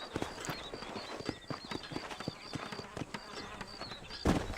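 Horse hooves clip-clop steadily through a Red Dead Redemption game scene near Armadillo, a fairly quiet, continuous run of close footfalls with faint ambient insect-like buzzing and a louder thump near the end.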